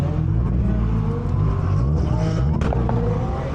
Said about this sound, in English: You know he's going to make noise when he leaves. Here goes 720S.